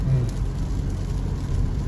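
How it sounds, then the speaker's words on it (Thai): Steady, not-too-heavy rain falls in a town setting, a continuous close patter with a faint low hum underneath and no talking. "ฝนตกเรื่อยๆเนี่ยแต่ว่ามันไม่หนักมาก"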